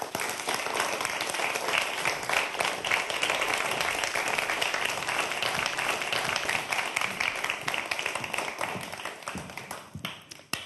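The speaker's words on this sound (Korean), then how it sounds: "여러분 큰 박수로 맞아주시기 바랍니다" An audience at a lecture applauds to welcome a Seoul National University professor, sustained dense clapping from many hands that holds steady for about ten seconds before tapering off.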